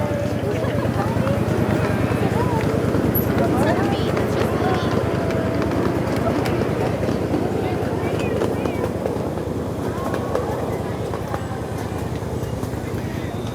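Live steamer miniature train running along its rails outdoors, a steady continuous rumble and rolling clatter with a low engine hum throughout, with people's voices over it.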